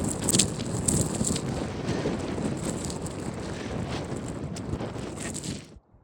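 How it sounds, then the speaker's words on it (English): Strong, steady wind buffets the microphone on an exposed mountain trail, a continuous roaring rush with gusty surges that cuts off abruptly at the end. "Very windy."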